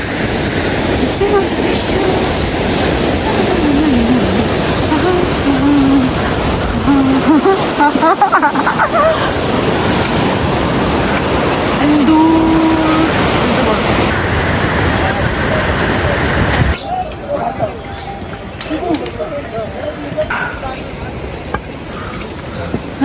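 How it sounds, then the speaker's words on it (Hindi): A mountain waterfall beside the trek to Hemkund Sahib gives a steady, loud broadband rush that fills the whole clip, with a voice speaking over it now and then. "and this is the waterfall"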